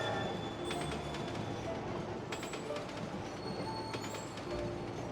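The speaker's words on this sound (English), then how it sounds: "Oh, the train has entered hyperspeed!" A spectral train in Kingdom Hearts II speeds along at hyperspeed, its steady rumbling rush and clattering rail noise running loud and continuous, with high metallic whines and squeals streaking over the top.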